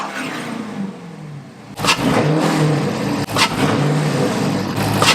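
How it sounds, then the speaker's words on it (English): A car with a Hemi engine and an Airaid cold air intake cranks and starts, followed by a loud idle broken by a couple of sharp blips of revving. "Now we can go ahead and start up the car"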